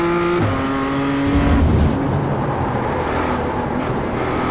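A BMW M2 CS race car in the iRacing simulator at Laguna Seca: the engine drops pitch on a downshift, then gives a rough, rumbling acceleration at moderate level with other cars' engine noise faintly behind.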